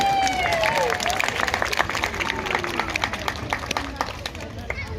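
A crowd at a sea lion show at West Midlands Safari Park applauds and cheers for a person's sea lion impression, a loud, sustained patter of many hands with voices over it.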